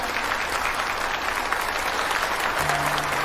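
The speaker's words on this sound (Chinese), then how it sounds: "大家掌声欢迎" Steady applause from an audience welcoming a company vice president on stage at a phone product launch event, dense and continuous throughout, with a low hum entering near the end.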